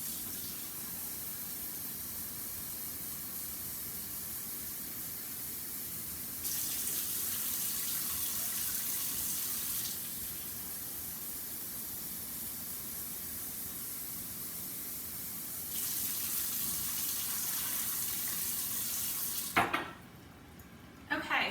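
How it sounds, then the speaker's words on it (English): A kitchen sink tap runs water into a pot for pasta, a steady hissing stream that swells louder in two stretches as the container fills, then cuts off near the end with a brief clatter. "I'm just gonna put 4 cups of water in here. So bear with me for 1 second while I do that in my sink."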